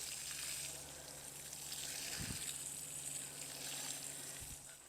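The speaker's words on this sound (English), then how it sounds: "I'm also gonna water right in the center here" Water spraying gently onto garden seedlings in a bed of forget-me-nots and Bupleurum: a soft, steady hiss and trickle, quiet and continuous, with a couple of faint low thumps partway through.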